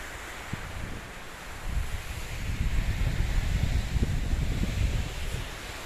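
Sea waves on the coast of Kerala, a broad steady wash of surf mixed with wind buffeting, swelling louder midway and staying constant without speech.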